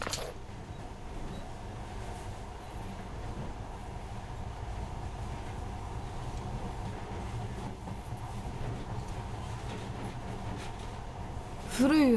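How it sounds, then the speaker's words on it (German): Monorail train in the video game Metro Last Light, a steady rumbling run with rhythmic rail clatter throughout, quiet and continuous, with a sharp louder burst at the very end. "Aber jetzt scheint diese Einschienenbahn geradezu magisch zu sein"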